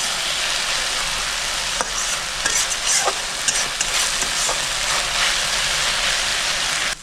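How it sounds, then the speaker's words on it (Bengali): Water spinach (kalmi greens) fries in a pan after boiling, giving a steady broadband sizzle with a few sharp stirring scrapes and clicks through the middle, close and fairly loud, with no talking. "আমি এখন 2 থেকে 3 মিনিট আরও ভালো করে শাকটা রান্না করে নেব"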